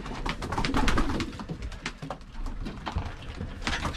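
Racing pigeons coo steadily in their breeding box, where eggs have just hatched, a soft overlapping murmur of throaty calls with light shuffling, close and moderately loud throughout.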